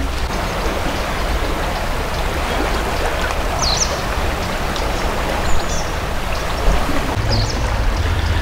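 Floodwater rushes past a bridge in a steady, loud roar of flowing water, with a few faint bird chirps above it.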